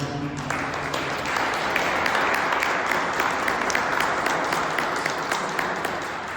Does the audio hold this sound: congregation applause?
yes